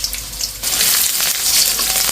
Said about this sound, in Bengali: পেঁয়াজটা আমার ভাজা ভাজা হয়ে গেছে